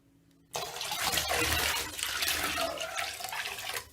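Water from a tap suddenly gushes into a bathtub being filled for a chaga soak, a steady splashing rush that holds for several seconds after a quiet start.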